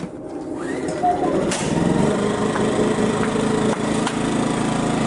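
A Westinghouse iGen2200C portable inverter generator is pull-started and settles into a steady, fairly quiet running hum with a light rattle, with a voice in the background.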